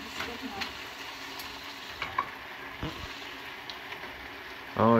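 Butter sizzling in a pan with vegetables being cooked, a soft steady frying hiss with faint stirring clicks, quiet throughout, a voice briefly breaking in at the very end.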